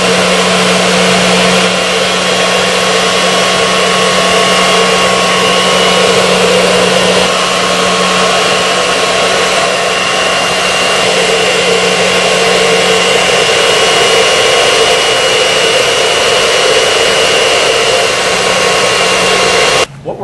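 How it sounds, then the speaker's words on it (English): Explosion-proof industrial vacuum cleaner sucking up flour through its intake hose, a loud, constant roaring drone with a steady low hum, running without pause for about twenty seconds before cutting off abruptly at the end. "What we were simulating there was picking up flour."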